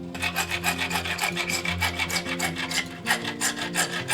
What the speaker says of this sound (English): the brass is pretty soft, so it's not difficult to cut through with your hacksaw